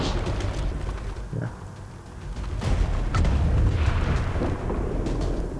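A large gun exploding in the XCOM 2 strategy game: a deep rumbling boom swells and lingers, with scattered debris crackles over a steady low background.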